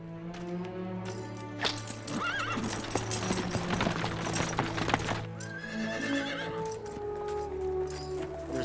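A horse whinnies loudly and at length while hooves clop nearby, the neigh rising and falling over steady hoofbeats before fading to a softer whinny at the end.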